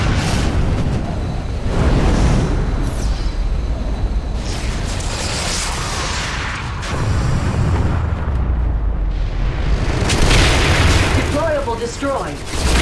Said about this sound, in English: An airstrike has been called in to support your position.